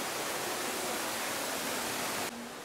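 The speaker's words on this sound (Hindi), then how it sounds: "और ये पानी की खूबसूरत आवाज़ें देखें।" Steady, dense rush of flowing water fills the scene, continuous and fairly loud, dropping slightly quieter near the end.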